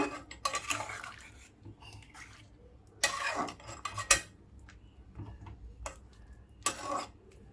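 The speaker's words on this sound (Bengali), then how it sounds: "একটু নাড়াচাড়া করে দিচ্ছি।" A spoon stirs Bengali rohu fish egg curry with gram-flour fritters simmering in gravy, making intermittent scraping and clinking against the metal pan in a few separate bursts, close and moderately loud, with no talking.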